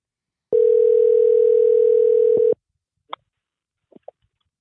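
A telephone dial tone sounds loud and clear for about two seconds when calling someone back, then cuts off, followed by a few faint clicks and blips from the phone.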